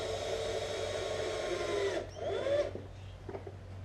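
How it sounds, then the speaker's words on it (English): Small screws being driven into a hard-wired USB charger mount on a Harley-Davidson motorcycle, a steady whirring drive that runs for about two seconds, then stops, followed by faint handling clicks and rustle. "Now I'm just going to screw this in."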